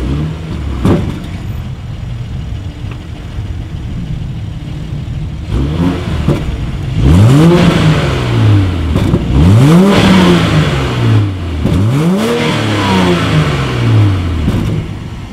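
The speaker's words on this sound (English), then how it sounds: "dual exhaust outlets back there, so you guys know what we have to do next. As always, here is that exhaust clip." A 2019 BMW X7 SUV engine idles, then revs sharply three times in a row, each rev rising and falling, loud and close to the dual exhaust outlets.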